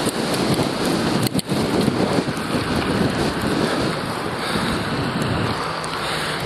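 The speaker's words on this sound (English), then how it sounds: "So right now we're heading into some strong wind." Strong headwind buffets a microphone during a bicycle commute in Toronto, a loud, steady roaring rush with a few thumps near the start and no talking.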